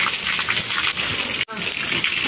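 Water gushing steadily at an outdoor drinking water spot, a continuous close splashing flow with one brief dropout near the middle.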